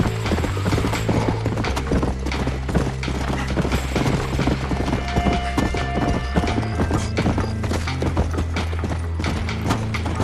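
Horse hooves clip-clop steadily as a horse is ridden in the video game Red Dead Redemption, a brisk, continuous rhythmic trot with tack rattling and a faint whinny over a low ambient bed.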